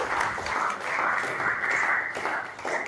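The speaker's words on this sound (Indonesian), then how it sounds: "Berikan tepuk tangan untuk Priscil" Students applaud a classmate in an Indonesian broadcasting and film class, a dense, steady wash of clapping lasting a few seconds at moderate loudness, with no speech on top.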